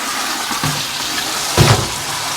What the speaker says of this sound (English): So that's why we use the colander rather than just dumping it in the sink. This gets a rinse.